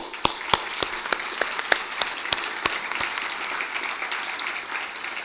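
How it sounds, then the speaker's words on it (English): An audience applauds, with sharp individual claps standing out over a steady wash of clapping that gradually softens. "I'd like to give a round of applause to our sheriff"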